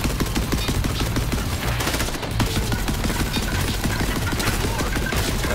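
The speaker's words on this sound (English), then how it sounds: "I don't know if they'll do well against this assault rifle we just got." Assault rifle in Borderlands 3 firing long, loud, continuous automatic bursts at close range, dense rapid shots packed tightly with almost no pause.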